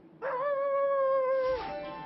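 An Akita dog lets out a single sustained, wavering howl-like whine lasting over a second, close and clear, tapering into a softer tail with no talk.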